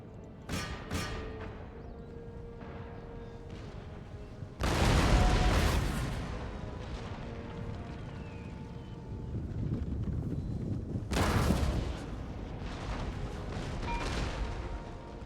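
Cannon artillery and musket gunfire in Total War: Empire, a few sharp shots early, then two loud rolling volleys of booms with a rumbling battle din between them.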